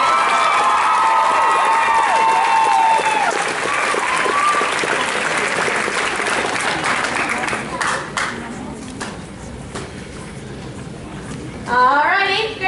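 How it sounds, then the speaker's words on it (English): An audience claps and cheers after a high school choir performance, loud and dense with some shouts, with lingering singing at the start; the clapping thins out and a voice and children's chatter come in near the end. "applause."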